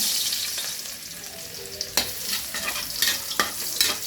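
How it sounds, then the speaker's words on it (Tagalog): Garlic sizzling in a hot oiled pan for papaitang kambing, a steady loud frying hiss with a spatula scraping and stirring in sharp strokes, no talk. "lagyan ko na bawang"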